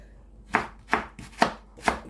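Knife chopping raw carrots for a salad, four sharp evenly spaced chops on a cutting board, close and clear with no talk.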